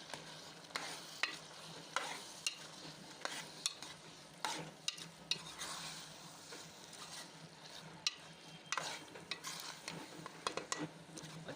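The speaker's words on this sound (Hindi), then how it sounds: "अच्छी तरह से गोश्त में हम इनको अच्छी तरह से भूनना है ताकि जो चिकन का और मसाले का टेस्ट है वो इसमें अच्छी तरह से मिक्स हो जाए।" Chicken pieces with moringa flowers and spices fry in a pan as a spoon stirs them, sharp scrapes and knocks recurring irregularly over a soft, steady sizzle, close but fairly quiet.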